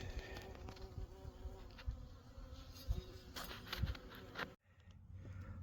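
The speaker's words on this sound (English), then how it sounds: "ooh, there's a wasp" Wasp buzzing near winter beehives, a close, wavering insect drone that rises and fades as it moves around, with a short dip near the end.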